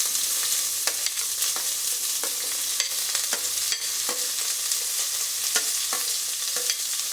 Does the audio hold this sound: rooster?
no